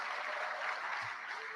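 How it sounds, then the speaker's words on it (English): A brief wash of audience applause for an event's MC, steady and moderately soft, with a faint low thump partway through. "can we please give Miss Dewar, our MC, a round of applause?"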